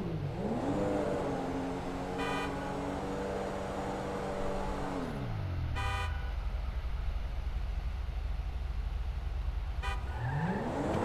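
Car horns honk to start a race in GTA 5, three separate toots spread across the stretch, heard over a steady engine drone that rises and falls as a car revs and accelerates.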